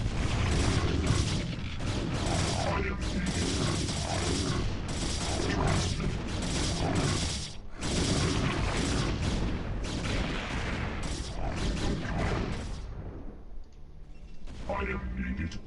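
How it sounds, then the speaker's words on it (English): Protoss photon cannons firing in StarCraft during a battle, a dense stream of booming shots and explosions, with game voices and someone talking over the gunfire. "So here I can now use photon cannons offensively."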